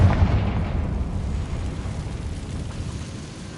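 A Confringo blasting curse going off in Hogwarts Legacy: one booming explosion with a sharp onset, then a long rumbling tail that slowly fades, with nobody speaking.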